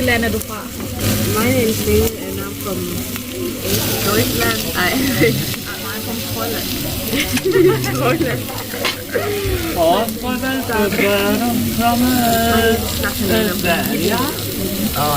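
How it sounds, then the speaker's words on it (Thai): Loud, continuous sizzling hiss of oil sprayed onto a hot grill with food frying at a buffet, people talking and chatter over it throughout. "เขาฉีดน้ำมันลงไปข้างบนเนี้ย แล้วเราก็เอาของย่างได้ใหม่ๆ"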